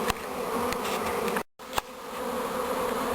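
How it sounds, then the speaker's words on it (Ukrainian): A honeybee swarm crawls into a hive box, its dense, steady buzzing close and constant, broken only by one brief dropout. "Поступово-поступово бджоли заходять до корпуса."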